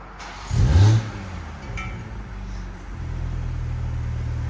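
A 2022 BMW M340i 3.0L turbo inline-six with a Valvetronic downpipe-back exhaust idles with the valves closed, a low, steady exhaust rumble, a brief louder burst near the start, then a deep, even drone.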